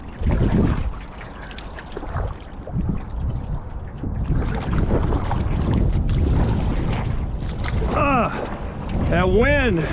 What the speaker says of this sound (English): That wind is trying to turn the front of my canoe sideways, so gotta fight the wind.